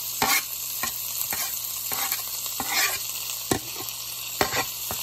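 Onions and fresh basil frying in olive oil in a pan, a steady close sizzle with repeated stirring scrapes and taps scattered throughout.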